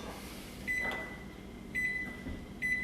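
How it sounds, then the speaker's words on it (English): Microwave oven running on high while heating a s'more, a steady low hum with faint repeated electronic beeps, close and quiet, with no talking. "I'm going to put the microwave on high for 15 seconds."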